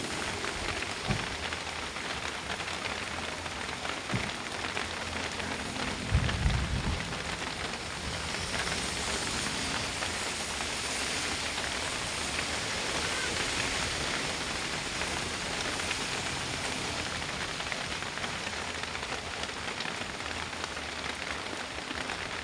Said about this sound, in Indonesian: Hujan tambah deras